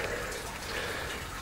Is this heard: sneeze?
no